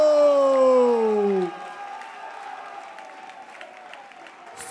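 Rap battle audience at a televised MTV Spit contest cheering and applauding, a loud tonal sweep opening before a sustained roar of crowd noise and clapping that continues steadily to the end.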